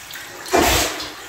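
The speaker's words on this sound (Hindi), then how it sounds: "पानी इसने रिंस करना स्टार्ट कर दिया है" An automatic washing machine tub rinsing with water: a sudden rushing gush of water rises close by, swells for a moment, then settles to a steady wash.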